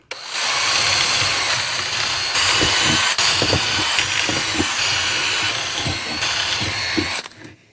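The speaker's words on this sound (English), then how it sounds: "Now on each of these 10-inch pieces, we'll drill 2 holes on each side." A power drill whirs loudly and steadily for several seconds, with short bursts as the bit bites into wooden fence picket pieces, then stops abruptly.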